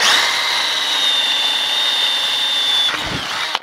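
A power drill whines steadily at high speed, loud and close, as it bores holes, then winds down with a brief rattle near the end.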